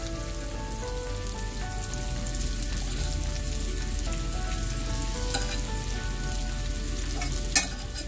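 Sausages and potatoes sizzle steadily in a hot pan as caramelized creamy onions are stirred through, a close, continuous frying hiss with faint scraping and one brief sharp clink near the end.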